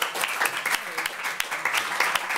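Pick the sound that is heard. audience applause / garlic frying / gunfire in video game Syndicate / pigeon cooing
audience applause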